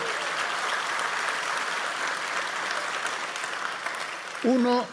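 Audience applause at a harp festival in Asunción, Paraguay: a continuous, dense clapping from a crowd, heard alone, with a brief tonal sound breaking in near the end.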